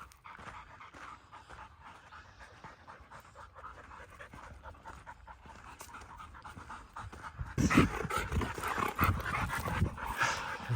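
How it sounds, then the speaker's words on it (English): Tired dogs pant heavily on a walk. A faint, fast panting rhythm grows louder and closer toward the end, with some jingling and movement noise. "I think I have a couple tired dogs."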